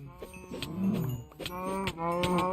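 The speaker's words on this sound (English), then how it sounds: "I'm tired of all these damn cows mooing in my ear" Cows in a survival video game lowing in drawn-out moos, several overlapping calls loud and close, with no talking.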